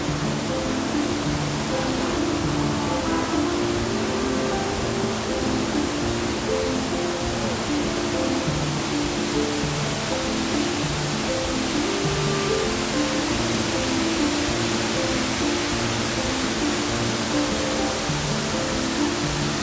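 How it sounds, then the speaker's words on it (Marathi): A large monsoon waterfall at Mahabaleshwar roars in a dense, unbroken rush of falling water, loud and steady throughout with no voices. "हा मोठा वॉटरफॉल धबधबा"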